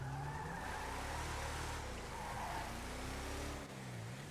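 A car engine drones and tires squeal in a steady roar, loud and close, with pitch shifts as the car accelerates and turns.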